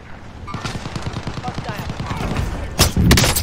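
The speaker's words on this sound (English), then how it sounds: "Everyone else is shooting me." Rapid bursts of gunfire from a sniping-focused shooter video game, a steady stream of shots building in density before louder heavy blasts near the end, with players' voices talking over the action.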